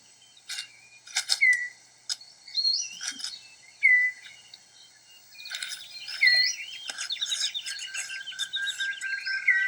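A male six-plumed bird of paradise calls at close range, giving a run of sharp whistled notes and chirps in separate bursts, then a denser, continuous stretch of rising and falling whistles over steady insect-like background hiss.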